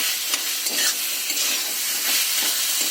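Rice and potatoes sautéing in a hot pan, a loud continuous sizzle with repeated scraping stir strokes throughout.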